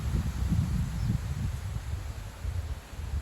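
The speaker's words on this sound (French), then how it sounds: "mais c'est quand même très venteux" Strong gusty wind blows outdoors on a blustery September day, rumbling low and close against the microphone in uneven buffeting surges with no voices.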